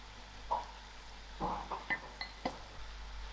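Tomatoes stirred into cabbage and gadra frying in a pan, faint background sizzle with a few quiet scrapes and clinks of a spoon against the pan.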